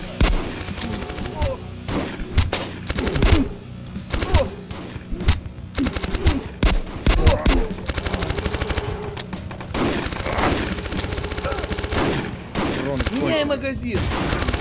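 Dense bursts of gunfire from the video game Slaughter 3, with rapid overlapping shots and heavy thumps packed through the whole stretch over a busy, loud game mix.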